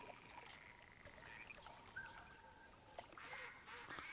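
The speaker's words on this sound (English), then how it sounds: "All right, so we're waiting for the American black duck to come in." American black ducks call in theHunter Classic hunting game, faint honking quacks repeating at a distance over a quiet outdoor ambience.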